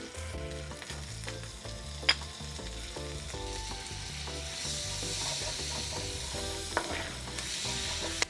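Butter melts and sizzles in a pan for a creamy lemon chicken dish, a steady bright frying crackle running throughout with a few sharp clinks of utensil on metal, close and moderately loud, with no talking.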